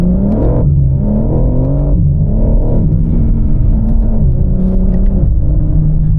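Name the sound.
BMW G82 M4 Competition engine driving on Klausen Pass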